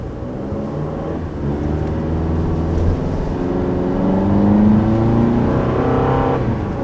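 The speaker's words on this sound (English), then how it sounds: "So getting up to speed in the all-new RAV4, power feels pretty good." A 2019 Toyota RAV4 with its base engine accelerating on a test drive, heard from inside the cabin: a steady engine drone with rising harmonic tones as speed builds, moderately loud and without talking.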